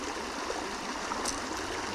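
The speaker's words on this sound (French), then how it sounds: "Et là on a une arrivée d'eau de fou furieux." Strong inflow of water pouring into a brown river, a steady broadband rushing and gurgling flow heard close and continuous without pauses, no voices.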